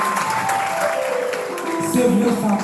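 Sustained clapping from an audience fills the space, even and continuous, with faint tonal sounds running beneath and a slight swell toward the end.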